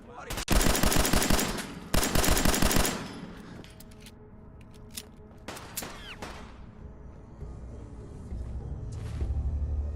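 Varmint rifle gunfire in Fallout 4, with two loud rapid bursts of shots early on, then scattered sharper reports and clatter over quieter game ambience.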